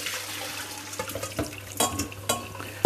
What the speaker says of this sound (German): Der Spargel ist jetzt fertig. Den einfach abgießen.